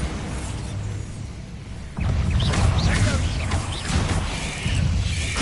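A Bombarda blast spell in the Hogwarts Legacy video game: quieter rumbling ambience, then a sudden loud crash that breaks into a sustained crackling, shattering roar with scattered debris-like bursts.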